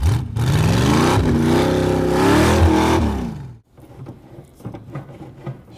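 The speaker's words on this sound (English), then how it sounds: "This is the first time a Corvette's ever climbed a mountain." A 1985 Corvette C4 kart engine climbs a rocky hill, roaring loudly at sustained high revs for about three seconds, then cutting off abruptly, followed by lower rumbling and clattering over the rocks.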